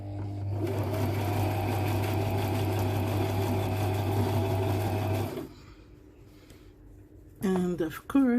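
Sewing machine stitching the back casing of wraparound shorts, a loud close steady hum for about five seconds that stops abruptly, followed by quiet handling noise.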